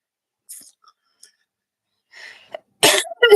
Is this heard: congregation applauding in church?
no